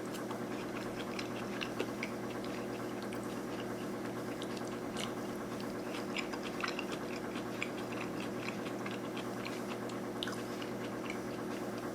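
Pickled ginger eaten alongside sushi rolls, soft close-up chewing with small moist crunches and squishy bites repeating irregularly, quiet and with no talk.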